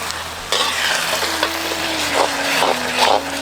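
Ash gourd halwa cooking in ghee in a pan, a steady soft sizzle with scraping stirring strokes recurring every second or so, close and clear with no talking.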